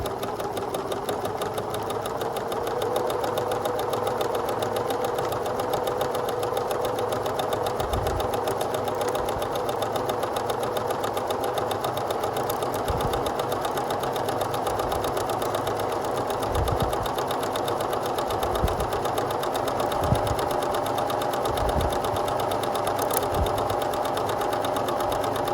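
A sewing machine stitches a fabric waistband closed, running in one steady, close mechanical whir with a rapid needle rhythm and no pauses for the whole stretch, with no talk.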